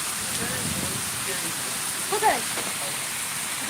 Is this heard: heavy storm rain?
yes